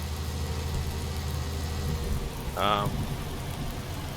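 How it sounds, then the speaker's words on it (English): Rain falls steadily in the Farming Simulator 19 video game, a constant hiss layered over a low engine-like rumble, with a brief higher tone rising near the end and no talking. "Unfortunately, it's still raining, which is painful"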